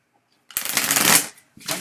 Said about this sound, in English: I will shuffle my cards.